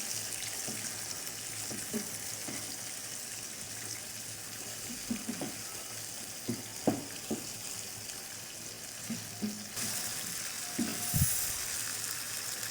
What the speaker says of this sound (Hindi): हमने तकरीबन 10 मिनट्स के लिए इसको चिकन को फ्राई किया है अदरक लहसुन के पेस्ट में।